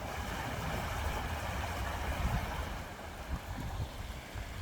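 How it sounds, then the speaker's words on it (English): A small waterfall on a Tennessee creek flows in a steady, soft rushing wash of water, heard from a short distance with no talk. "So you got the little mini waterfall over there."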